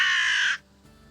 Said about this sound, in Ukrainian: Це карканьє. Кар, кар.